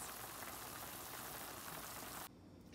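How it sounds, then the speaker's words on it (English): Asparagus soup simmering in a lidded pot gives a steady, close bubbling hiss that holds even and loud, then drops suddenly to a quieter background near the end. "I put the lid on the pot and I'm gonna let it simmer for at least 30 minutes"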